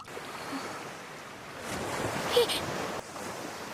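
Ocean waves wash and surge in an anime scene from Attack on Titan, a broad steady hiss of surf with a brief swell midway, moderately loud and continuous.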